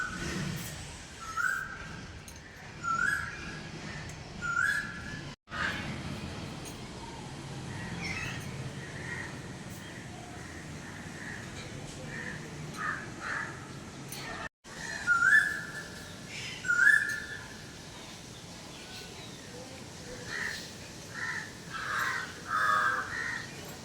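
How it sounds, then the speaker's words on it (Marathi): An Asian koel calls outdoors near a temple, giving short bursts of rising whistled notes in threes, a pause, then another run, set against a constant low background hum and faint chirps. "बघा किती छान कोकिळाचा आवाज ऐकतोय"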